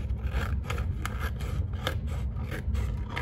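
Scissors snipping through paper grass cut straight across for a collage background, a series of short crisp cuts at a steady rhythm, close and fairly loud with no talking.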